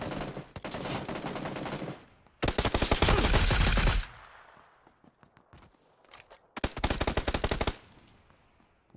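Automatic gunfire in PUBG on Xbox One, three sustained bursts of rapid-fire shots separated by short gaps, close and loud, with quieter scattered shots and movement in between.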